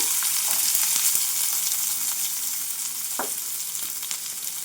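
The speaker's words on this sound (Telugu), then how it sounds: "పోపు గింజలు చిట్టపట్లాడుతున్నాయి కదా కట్ చేసి పెట్టుకుని ఉల్లిపాయ ముక్కలను వేస్తున్నాను" Chopped onions hit hot tempering oil with popping seeds, giving a loud, steady frying sizzle with scattered crackles and a few sharper pops, close up and with no voices.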